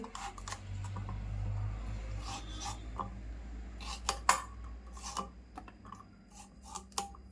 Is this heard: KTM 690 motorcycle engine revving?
no